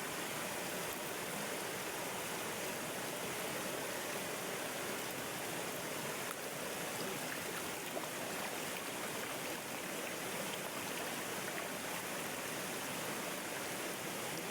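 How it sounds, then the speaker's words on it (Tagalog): Water rushes steadily at Kawa-Kawa Falls, a continuous broadband roar that stays even and close for the whole stretch, with no voices over it. "try natin maka-experience na maligo dito sa Kawa-Kawa Falls"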